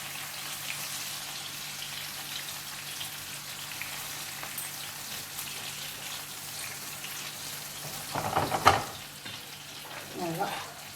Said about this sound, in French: je continue à faire sauter mes légumes, mes pommes de terre